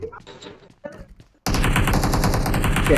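Rapid automatic gunfire from a gun in a video game bursts in loud and continuous after someone speaks briefly, then rattles on steadily to the end.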